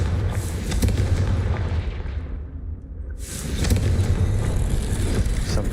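A Confringo fire-blast spell cast in a Harry Potter video game, producing heavy, rumbling booms in two swelling bursts with a lull between them, loud and close with no talking.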